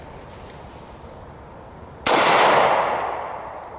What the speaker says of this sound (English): Now we're going to decock it and try the first one double action.